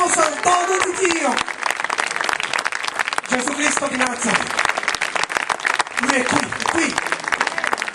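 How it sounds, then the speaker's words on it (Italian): An audience at an evangelistic campaign meeting in Ragusa applauds steadily throughout, clapping under an evangelist's continuous amplified Italian speech. "Facciamolo forte questo applauso al dono di Dio"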